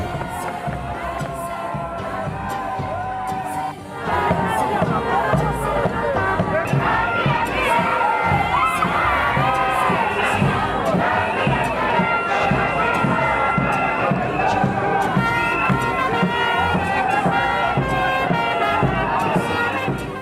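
A dense crowd roars and shouts without pause at a political welcome in Bandundu, Congo, with drumming, flags and chanting, a steady loud wall of voices with rhythmic thumps and a brief dip near the start.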